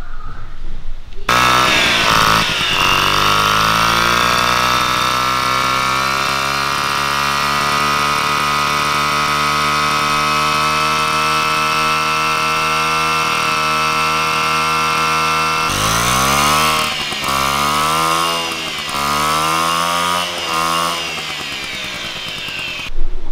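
A 1990s wine-red Piaggio Ciao moped engine catches and runs alone, a steady buzzing two-stroke drone held close and loud for about twenty seconds, with a few revving surges near the end.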